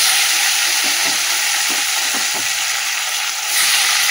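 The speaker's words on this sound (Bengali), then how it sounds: "আবার মাছটা ভেজে নিই" Fish fries in a pan with a constant loud, close hiss broken by soft, irregular pops and spatters.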